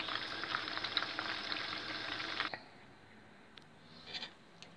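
Diced onions fry in a pan with smoked bacon and ham pieces, giving a steady, fairly loud sizzle for the first half before the sound drops to a faint, quieter crackle with a few light clinks.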